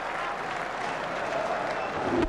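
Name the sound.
cricket crowd cheering and applauding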